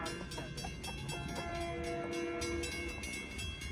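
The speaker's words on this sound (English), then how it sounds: "M7 train from Penn Station to Ronkonkoma." LIRR M7 electric commuter train of ten cars running from Penn Station toward Ronkonkoma, a loud, steady rolling rumble with sustained tonal whine and rhythmic clatter, no voices.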